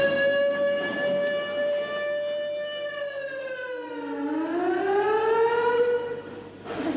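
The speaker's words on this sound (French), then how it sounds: "À 6 heures pile, la sirène va annoncer le début de la criée." Wailing siren at a fish auction signals the start of the sale, one long sustained tone that holds steady, then dips and rises again, loud and alone for several seconds.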